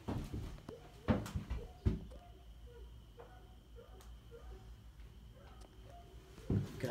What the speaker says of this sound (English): Latch the door.